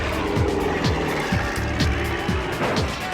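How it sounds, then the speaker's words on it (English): Combine harvesters race past in a continuous loud engine roar, with repeated descending pitch sweeps as machines pass close by one after another. "Welcome to harvester racing."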